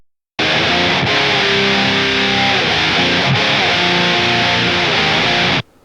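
A heavily distorted electric guitar chord through the LE456 freeware amp plugin rings out loud and sustained for several seconds, with a couple of brief changes, then cuts off abruptly.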